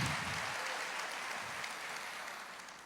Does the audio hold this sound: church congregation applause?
yes